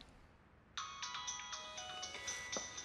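A mobile phone ringtone suddenly starts ringing, a bright repeating melodic tone that fills the room, heard on its own with no one talking during the ring.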